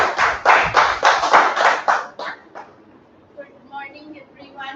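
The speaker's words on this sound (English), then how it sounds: "with a good round of applause, invite our very own DTM Nimisha" An audience at a Toastmasters meeting claps in a brisk, full round of applause for about two seconds. It then thins to a few scattered claps and fades, and a voice begins speaking.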